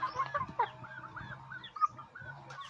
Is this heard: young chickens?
yes